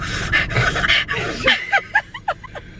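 A voice imitates inhaling smoke from a bowl with breathy, ragged gasps and short panting sniffs up close, ending in a few quick choppy breaths.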